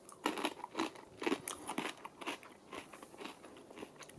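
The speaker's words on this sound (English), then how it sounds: "Got a nice crunch to them." Tesco sweet chilli coated peanuts crunched between the teeth, a run of loud, close, crackly bites and chews repeating irregularly with no talking.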